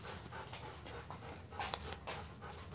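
A big golden retriever in a grooming salon pants in quick, close, rhythmic breaths, with a faint whimper in between.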